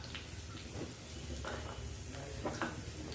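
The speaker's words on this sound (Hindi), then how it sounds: "काजू और किशमिश को प्रथमे गुआ घी रे मु भाजिकी ताको बाहर करनेबी" Cashews and raisins frying in desi ghee, giving a steady close sizzle with faint stirring scrapes and small crackles throughout, with no voices.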